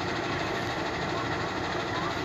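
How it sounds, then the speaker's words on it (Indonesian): A train hauls sections of Jakarta-Bandung high-speed rail track out of a depot, giving off a steady, dense rumble and rolling hiss that holds at an even level throughout. "beberapa petugas yang membawa rangkaian rel kereta cepat Jakarta-Bandung."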